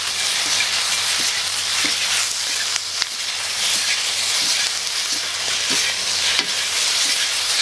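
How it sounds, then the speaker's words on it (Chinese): Pork belly stir-fried in a wok for red-braised pork, a dense continuous sizzle with occasional soft clacks of a spatula turning the meat, close and loud, with no one speaking. "这样就可以把那个肉下进去，一起炒"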